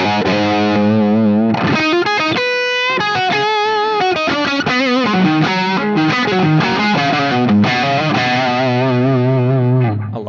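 Electric guitar driven through a Boss SD-1 overdrive pedal, playing loud, continuous distorted chords and riffs with sustained notes and brief pauses, no talk.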